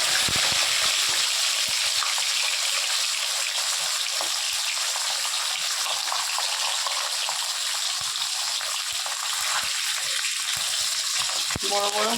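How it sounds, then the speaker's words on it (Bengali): Fresh sarputi fish pieces fry in hot oil, a loud, continuous close-up crackle and hiss that holds steady throughout, with a faint clink near the end. "তেল গরম হয়ে গেছে, এখন মাছগুলো দিয়ে দেব।"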